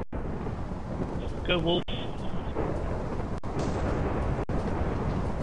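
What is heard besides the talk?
thunder from lightning in the video game Minecraft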